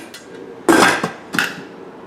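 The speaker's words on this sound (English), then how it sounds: "And then I put the lid on." A lid pressed onto a salad container, two close, hard plastic clacks and snaps about half a second apart, with a faint rustle before them.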